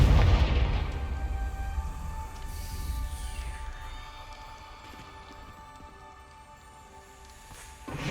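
A Confringo fire spell blasts in the Hogwarts Legacy video game, a loud booming burst up front that trails into a long rumbling decay.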